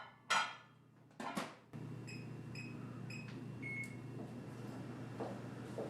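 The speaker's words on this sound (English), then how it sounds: "We have to go cook this in the microwave so the chips get all nice and melty" A microwave oven melting chocolate and peanut butter chips in a home kitchen: a couple of sharp clunks as the door shuts, a string of high keypad beeps, then a low steady hum as it runs.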